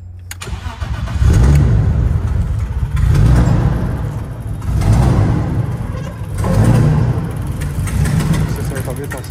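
A car engine cranks and turns over in repeated rising surges, each swell of low rumble building and fading several times in a row, loud and close, with someone speaking over it.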